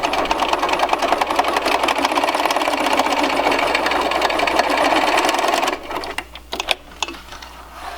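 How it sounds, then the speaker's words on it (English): A sewing machine runs a steady, continuous zigzag stitch along the edge of a cloth face mask, loud and close for about six seconds before stopping into a few scattered handling clicks. "So I'm turning this on to zigzag right now, and I'm just going to zigzag the end."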